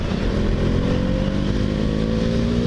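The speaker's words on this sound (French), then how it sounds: "il y a une espèce de bruit qui est caractéristique au KTM" A KTM Duke 390 motorcycle engine thrums loudly and continuously up close, a steady mid-pitched drone with no speech.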